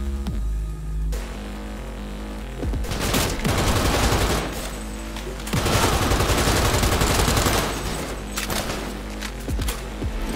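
Dense bursts of automatic gunfire in the video game Cyberpunk 2077, loud rapid volleys that come in several long stretches separated by brief pauses over an underlying game soundtrack.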